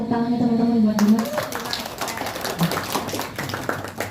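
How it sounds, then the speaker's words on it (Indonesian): Friends in a democracy-activist training session clap for Dimas, a scattered round of hand claps building after a sustained tone and fading out, with a voice speaking briefly over it. "Aku boleh minta tepuk tangannya teman-teman buat Dimas."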